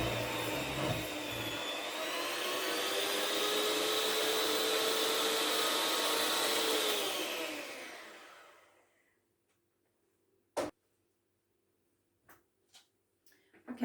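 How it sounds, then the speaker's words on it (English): Electric mixer blitzing chocolate ganache in a bowl, a loud steady motor whine lasting about seven seconds before winding down, followed by a few sharp clicks and knocks. "And then blitz it with a mixer."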